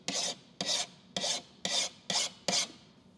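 A file rasps along the edge of ceramic window tint film on a Honda Accord, six evenly spaced scraping strokes at about two per second, close and crisp with no talking.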